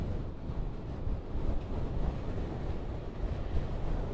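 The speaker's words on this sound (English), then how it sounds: "it's very windy out here, so we're trying to talk through as much of this wind as possible." Strong wind buffets an outdoor microphone after a possible tornado in Anton, producing a continuous, rough, low roar with gusty surges throughout.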